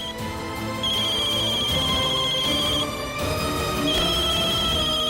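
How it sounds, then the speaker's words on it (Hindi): A mobile phone rings with a steady high electronic ringtone that repeats in two long bursts over a dense, loud background score in a TV drama scene. "देखो, शेल्वी का फोन आ रहा है"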